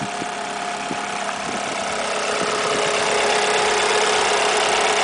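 A 2002 Alfa Romeo 156 with a 2.0 JTS engine and manual gearbox idles nearby, giving a loud, steady hum with a faint ticking rhythm and no voices.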